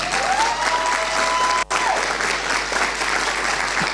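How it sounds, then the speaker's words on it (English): A room full of people claps in a round of applause for a woman being publicly thanked at a UNDP gathering, dense and steady for about four seconds, broken only by one very brief dropout. "I'm going to ask you to help me to thank her with a round of applause"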